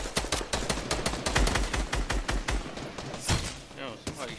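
Rapid bursts of gunfire in the video game Fortnite, dense close shots in quick volleys and sustained automatic fire, with players talking over it.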